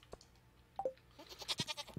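Sheep bleating on a farm in the video game Stardew Valley, short soft bleats and a few faint game blips, quiet and alone.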